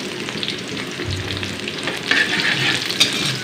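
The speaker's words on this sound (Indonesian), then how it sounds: "Yuk langsung aja kita goreng dulu bumbunya." Shallots, garlic and chili spices fry in hot oil for a crab dish, giving a steady close sizzle with stirring scrapes and a few louder crackles.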